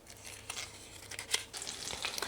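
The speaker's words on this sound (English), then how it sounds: "Sizzling nicely." Olive oil and butter sizzle in a hot pan on a stove, a steady, fairly quiet frying hiss with small crackles and pops throughout and no talking over it.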